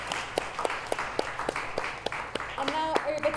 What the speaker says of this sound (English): So, final round of applause for Christie.